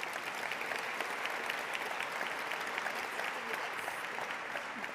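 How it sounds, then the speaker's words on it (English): A large conference audience of over two thousand people gives a real estate panel a sustained round of applause, a dense, even roar of many hands that holds steady throughout. "please give a round of applause to our panel"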